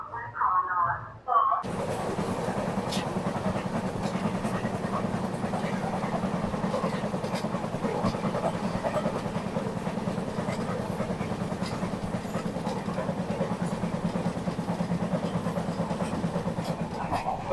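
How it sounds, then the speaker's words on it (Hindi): Amritsar Intercity Express rumbling steadily as it crosses the Sutlej river, a continuous loud rolling drone with faint clickety-clack, heard from on board after a brief quieter moment, with some talk. "यहाँ हमारी अमृतसर इंटरसिटी एक्सप्रेस क्रॉस करने वाली है सतलुज रिवर को।"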